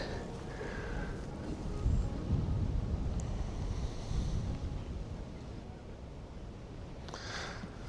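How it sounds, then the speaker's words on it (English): Wind rumbles steadily against the microphone in low gusts during outdoor archery practice, with a faint outdoor background and a couple of light clicks. "It's also really good that it's windy today."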